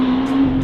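Lamborghini Aventador SV Roadster engine holding a loud, steady drone with a strong tonal hum, heard close and continuous with no talk.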